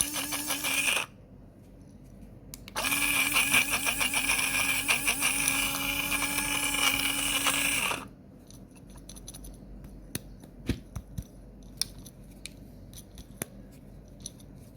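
A food chopper with ten blades grinds peanuts for mochi, its loud whirring burst running about a second, pausing, then roaring again for about five seconds before stopping, followed by faint clicks and handling noises.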